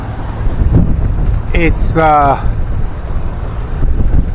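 Wind roaring steadily across a sailboat on the French coast, loud buffeting gusts on the microphone throughout, with a brief spoken word and a short whistle-like squeak near the middle.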